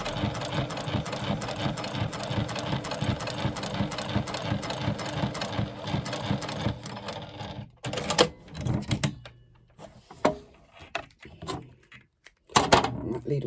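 A home sewing machine with a too-small needle stitches through eight layers of faux leather. It runs as a steady rapid mechanical chatter for about seven seconds, then stops and gives way to a few handling knocks and short bursts.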